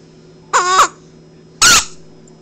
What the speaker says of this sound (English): gonna make the squeaking sound, which is gonna alarm them and alert them to your presence